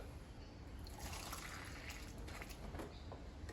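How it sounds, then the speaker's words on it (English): Water pours in a steady, quiet trickle into a Mazda 3 windscreen washer fluid reservoir, continuous for a few seconds with no talking. "I'm going to top that off with water"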